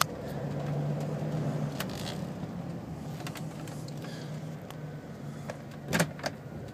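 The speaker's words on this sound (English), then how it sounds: "Go ahead and put it in drive." A used car with about 112,865 miles is shifted into drive and idles, giving a steady low engine hum throughout with a few faint clicks and a louder knock near the end.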